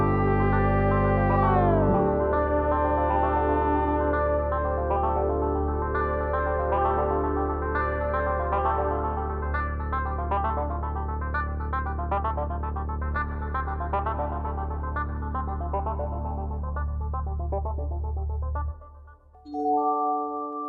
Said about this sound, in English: the performance is being sent to an external reverb unit from the analog stereo outputs